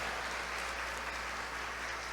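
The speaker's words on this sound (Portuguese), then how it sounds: "Esses aplausos não são nenhum tipo de honra humana" Steady applause from a church congregation at a gathering in Sergipe, a dense even wash of many hands clapping continuously from a moderate distance, with no voices standing out.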